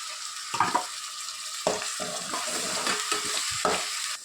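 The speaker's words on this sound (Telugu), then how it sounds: "ఇందులో మనం గ్రైండ్ చేసి పెట్టుకున్న టమాటో పేస్ట్ యాడ్ చేసుకోవాలి." Tomato paste sizzling and frying with ginger garlic paste for egg biryani, steady close sizzle with several stirring scrapes and clatters, no talk.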